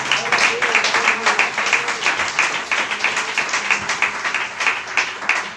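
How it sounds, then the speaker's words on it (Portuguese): Church congregation clapping in praise at a Pentecostal service in Catete, Rio de Janeiro, a steady, dense patter of many hands that stays fairly loud and even throughout, with faint voices mixed in. "Uma salva de palmas ao Senhor."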